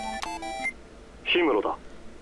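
A phone in the video game Tokimeki Memorial Girl's Side 3rd Story rings with a short burst of bright electronic tones, followed after a pause by a brief spoken voice.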